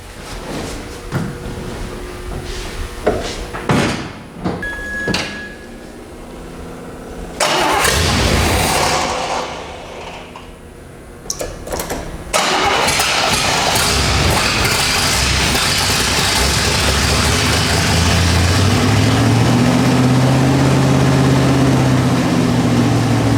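A rebuilt 350 engine in a 1977 Corvette cranks with a few stuttering tries and clunks, then catches and settles into a steady, loud, rumbling idle that runs continuously to the end, heard close with no speech.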